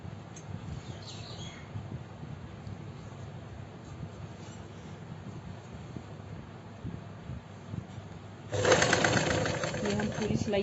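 A sewing machine stitching a princess cut kurti, a steady low mechanical whir up close that starts near the end and grows louder.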